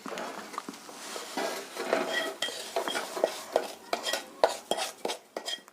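Roasted rava semolina is scraped out of a pan onto another plate for rava laddu, producing repeated scraping strokes and sharp metallic clinks of a spoon against cookware, close and uneven, with a faint residual sizzle.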